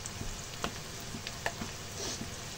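Nasi goreng seasoning paste being stirred as it fries in a pan: a low, steady sizzle with a few light scrapes and knocks of the utensil, close and alone without talk.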